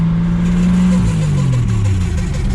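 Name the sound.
old car engine starting and revving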